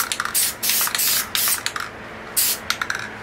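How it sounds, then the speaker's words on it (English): Yellow paint sprayed from a can in short bursts for trees in a small nature painting, four loud hissing blasts with brief rattles and pauses between them. "and just spray some yellow here."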